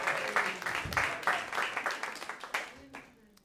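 Audience applause in a New York comedy club at a roast battle, a dense wash of clapping with a few louder claps and whoops, tapering off toward the end.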